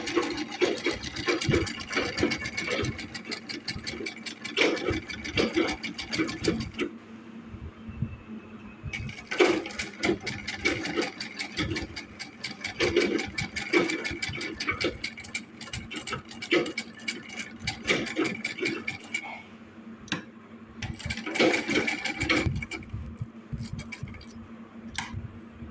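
A sewing machine stitching a top whirs in short runs, stopping and restarting repeatedly as the fabric is turned, close and moderately loud with no talking.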